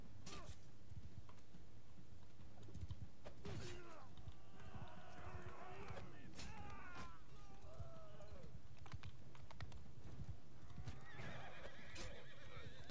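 In the medieval combat game Mount & Blade II: Bannerlord, a horse gives several whinnies and snorts over a steady in-game background, with hoof clip-clops and occasional keyboard clicks mixed in at a low level.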